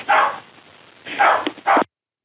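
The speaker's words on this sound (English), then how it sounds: "It's the first time we've gotten a call from a dog." A dog barks loudly several times in short bursts, a brief gap, then a final yelp, clear and close with no voices over it.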